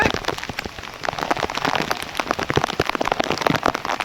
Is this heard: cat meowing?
no